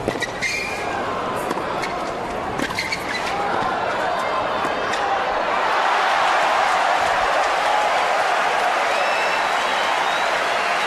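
Tennis crowd breaking into applause and cheering after a rally in a 2004 Miami match between Rafael Nadal and Roger Federer, clapping swelling into a sustained roar, with commentator talk at the start.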